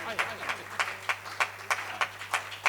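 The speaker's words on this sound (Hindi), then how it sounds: "जोरदार तालियां आपकी बजे जब तक वो आए माइक पर" Sparse, rhythmic clapping from the audience at a Hindi poetry recital, with distinct claps repeating roughly every quarter second, fairly close, over a steady electrical hum.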